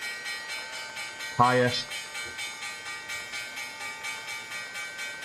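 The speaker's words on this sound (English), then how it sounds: "There's the bell." Stock market opening bell rings once as a loud, brief clang over a steady electronic hum, then fades within about half a second while a voice speaks nearby.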